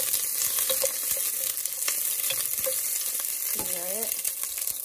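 Onion sears in a hot pan for Filipino bihon noodles, with a steady crackling sizzle and occasional utensil taps and stirring. A brief voice sound is heard near the end.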